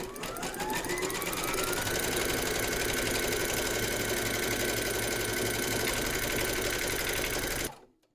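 An embroidery machine stitches a securing round through batting taped in a hoop for a quilted collapsible bowl, a loud, steady mechanical buzz that runs about seven seconds and then stops abruptly.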